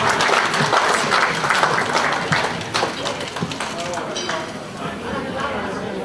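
An audience at the Aoniu Festival final applauds a young development-side performer, a dense, steady wash of clapping that fills the whole stretch, with voices talking and chattering through it.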